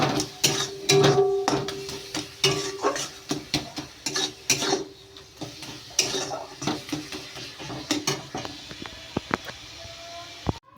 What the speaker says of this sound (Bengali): এখন গ্যাসে আমি কড়াই পরিষ্কার করে ধুয়ে বসিয়ে দিয়েছি